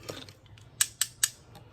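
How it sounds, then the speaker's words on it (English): Ordinary household scissors, not fabric shears, cut through glitter-textured fabric with three crisp, close snips in quick succession against a quiet room. "I'm going to use these regular scissors, not fabric, because it's got glitter texture to it"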